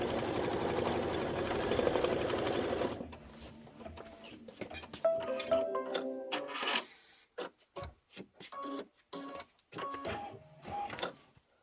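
A Kimberbell embroidery machine stitches a tack-down with a fast, steady whirring hum, then stops, and stretches of talk with clicks and fabric handling follow.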